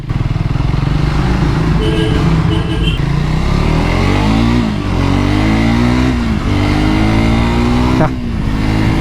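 A car engine revs hard under acceleration, its exhaust note climbing and falling through several loud, close pulls with no pause between them.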